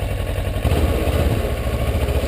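Motorcycle engine held at a light, barely opened throttle just before the clutch is let out, a close, steady low idle-like rumble.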